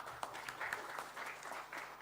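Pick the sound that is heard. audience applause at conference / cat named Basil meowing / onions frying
audience applause at conference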